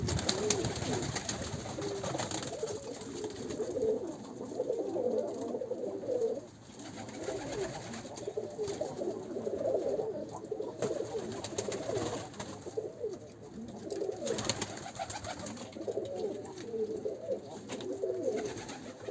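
Miro pigeons coo inside a coop, overlapping low throaty calls repeating steadily throughout, fairly quiet and close with a soft rustle of birds around them.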